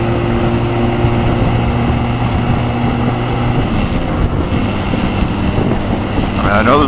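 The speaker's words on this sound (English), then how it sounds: "I'm getting on the interstate on a Rebel 250." A Honda Rebel 250 motorcycle cruises on an interstate, its steady engine drone mixed with constant wind roar, loud and continuous, with a brief rise in pitch near the end.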